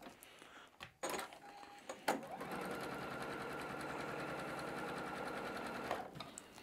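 A sewing machine chain-pieces star quilt blocks, running in one steady, close, continuous burst of fast stitching after a couple of brief handling knocks, with no talk over it.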